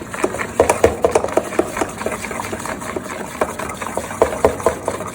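Mung dal batter mixed with citric acid is whipped briskly in a bowl, giving close, rapid rhythmic clatter and scraping strokes that run continuously and fairly loud.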